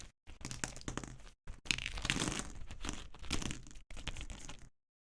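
Plastic bag holding linear keyboard switches sold in packs of ten, crinkling and rustling steadily close by in several bursts with brief pauses between.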